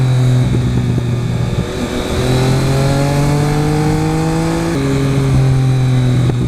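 A Triumph Speed Triple motorcycle ridden at speed, its engine note rising steadily through the gears with a clear shift partway, loud and close with rushing wind, no talking.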